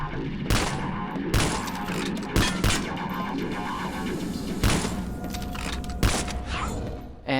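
A gun in the video game Vivisector fires a string of heavy, booming shots at uneven intervals, each a loud thump with a rumbling tail, over a continuous low mechanical drone.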